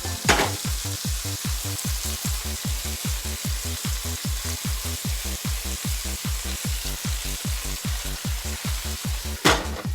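A burger and mushrooms fry steadily in a pan, a close, continuous sizzle with a regular pulsing rhythm throughout and a couple of sharp clinks, with no voices.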